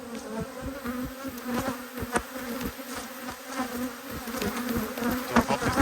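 Honey bees buzz steadily in the air around an open hive during an inspection, a dense, continuous hum at close range with individual insects droning past the microphone, and no talking.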